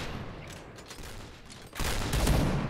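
Gunfire in the online shooter Point Blank, rapid bursts of shots that start moderately and then swell into a louder, denser volley in the second half.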